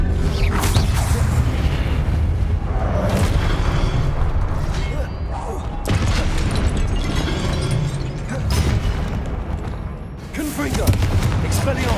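Confringo spell explosions in Hogwarts Legacy fire off one after another as a series of loud booms and bursts amid combat clatter, with a voice speaking over the blasts.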